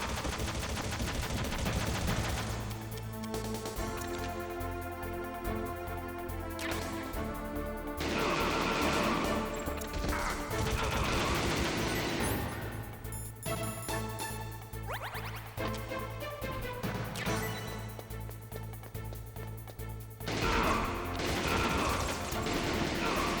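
Gunfire in the PlayStation game Metal Gear Solid, dense rapid bursts of shots and mechanical clatter over a pulsing game soundtrack, loud and continuous with short lulls, no talk.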